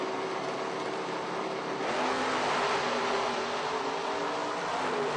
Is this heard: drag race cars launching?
yes